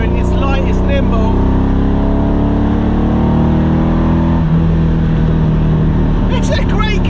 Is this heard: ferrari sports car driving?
yes